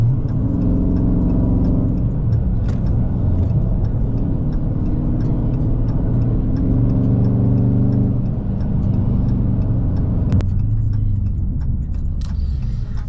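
A Dodge Charger Scat Pack widebody's engine drones loudly from inside the moving car, a steady heavy rumble with shifting tones as it cruises and pulls, with faint ticking over the roar.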